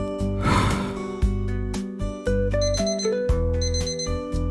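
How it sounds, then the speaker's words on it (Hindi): A tonal electronic alarm clock plays a repeating melodic pattern of beeps, loud and close, with a noisy burst near the start. "अगली सुबह ठीक 5 बजे अलार्म बजा।"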